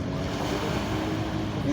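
Sea waves wash steadily onto the beach at Alexandria, Egypt, a brief, continuous, moderately loud rushing surf.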